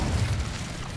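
A low, rumbling fiery burst from the Incendio fire spell in Hogwarts Legacy, a dense boom-like roar filling the whole moment at steady loudness.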